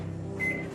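A Samsung smart microwave oven running on high power, a steady low hum with a faint higher whine joining briefly near the end, close and alone without talk.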